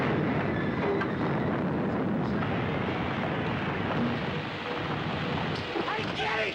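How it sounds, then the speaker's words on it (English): A train crosses a viaduct in 1967, a dense, steady rumble filling the whole stretch at a constant loud level, with faint voices mixed underneath. "There's a train through the viaduct!"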